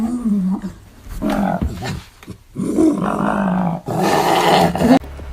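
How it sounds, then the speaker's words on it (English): A small, vicious dog snarls, growls and barks in rough bursts at close range, loud and aggressive with brief pauses between outbursts. "I'll slide a clip in of the dog whenever we were trying to sneak out here"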